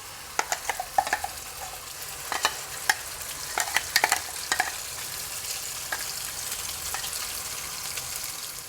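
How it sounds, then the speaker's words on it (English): Ground misal masala fries in a generous amount of oil, giving a steady soft sizzle with a cluster of sharp spatters and stirring clicks early on that thin out into a quieter, even crackle. No one speaks. "now as you can see that the ground masala is almost fried"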